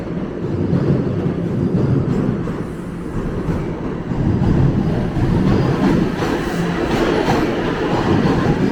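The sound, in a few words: subway train passing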